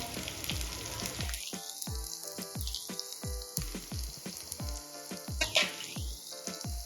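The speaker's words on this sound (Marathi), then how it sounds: "आता या स्टेजला आपण अद्रक लसूण पेस्ट ॲड करून घेऊया" Ginger garlic paste hits a pan of melted tomatoes and sizzles steadily at moderate volume, with regular knocking thuds and a repeating rising tone in the background, and nobody speaks.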